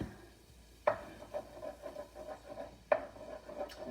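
Eggs being scrambled in a pan for cauliflower rice, with a quiet scraping of a utensil over the pan and two sharper knocks, no talk.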